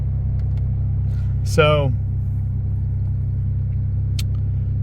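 Car cruising on the road heard from inside the cabin, a steady low road-and-engine rumble throughout, with a person speaking briefly over it.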